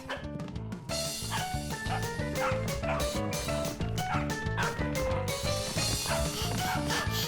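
A cartoon dog barks amid busy, loud backing music in a French children's educational animation, the yips blending into the steady musical bed with no clear gaps.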